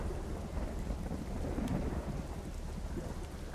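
Heavy thunderstorm rain pours continuously, with rolling thunder rumbling low beneath the hiss of the downpour; no one speaks.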